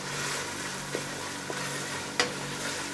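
Tomatoes cooking down in a pan for a masala fish curry, a continuous sizzle with occasional soft taps and scrapes as they are pressed and stirred.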